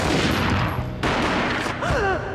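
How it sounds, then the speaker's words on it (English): Gunfire in the video game Max Payne, a sharp burst of shots with a sudden loud crack near the middle, followed by a brief cry-like tone over background game noise. "A gunshot boomed and she fell down in slow motion"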